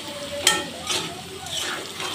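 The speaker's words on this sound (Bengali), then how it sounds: "তেলটা একটু বেশি হয়ে গেছে আলু ভাজাতে" Potatoes fry in plenty of oil in a home kitchen, a close steady sizzle broken by a few sharp clinks and scrapes of stirring.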